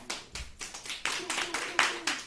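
A small audience at a talk-show panel gives a round of applause, a sparse scatter of individual hand claps close by, with a faint voice beneath.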